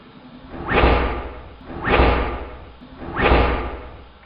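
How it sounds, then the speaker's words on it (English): Three loud whooshing thumps of gas igniting in the twin-flue boiler of a model steam engine, each a sudden burst that swells and fades, evenly spaced about a second apart in a slowed replay, with no talking. "Particularly on these twin flue gas boilers, the initial explosion is quite pronounced."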